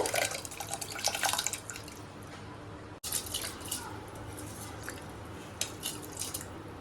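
Water poured into tomato rice in a pressure cooker, a steady close trickling splash with drips, running alone through the clip apart from a brief break.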